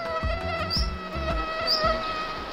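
Mosquitoes whine in a steady, high-pitched drone that swells and fades slightly as they drift close, with low rumbling pulses underneath and no voices.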